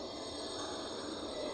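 A Bangalore metro train at Baiyappanahalli station gives a steady, loud rumbling hum with a faint high whine, continuous and close.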